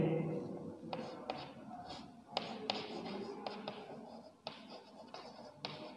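A pen writes a school name on paper with soft scratching strokes and light taps, quiet and close, with irregular pauses between words.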